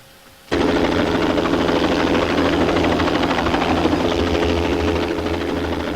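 A helicopter comes in to land in a front yard at an emergency rescue scene, starting abruptly as a loud, steady rotor thump and engine roar that holds close and constant to the end, with no talk.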